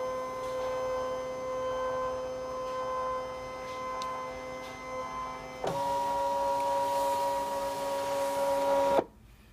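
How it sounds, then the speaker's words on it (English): A Brother Cut 'n Scan machine scans an embroidery design, giving a steady tonal electronic whir that shifts to a louder, higher drone partway through and then stops suddenly. "now I'm going to press the scan. And it's going to take that design and scan it into the machine."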